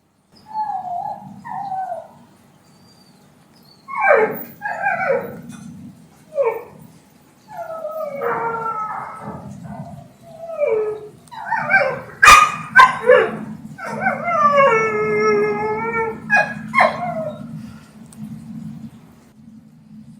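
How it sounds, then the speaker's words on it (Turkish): A small dog barks and howls outdoors at 4 a.m., with repeated close yelps and longer wavering howls that rise and fall over a low steady hum, pausing briefly between outbursts. "Köpeği, görünürde boş olan bir alana havlıyordu."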